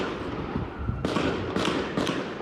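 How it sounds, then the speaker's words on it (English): Gunfire from a gang shootout in a Toronto neighbourhood arrives as three sharp, loud cracks about half a second apart, ringing out over a constant low rumble of background noise. "The gunfire came in waves."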